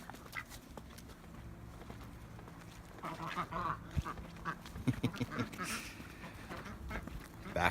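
Ducks quack faintly outdoors, a scatter of short calls in the second half over low background rumble.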